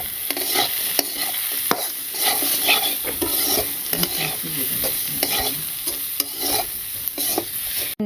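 Vegetable stalks frying in a pan, a loud constant sizzle with scraping stirs and occasional clinks of a spatula on metal.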